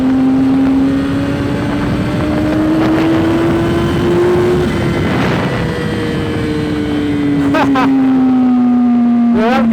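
A Yamaha R1 motorcycle engine pulls hard at speed, its high whine climbing steadily, then easing and falling away, with heavy wind roar throughout.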